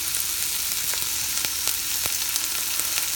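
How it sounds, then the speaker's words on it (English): Pot roast meat searing in a hot pan: a steady, close sizzle with scattered sharp pops and crackles, no talk over it. "I think I'll turn it back and let this side sear a little more."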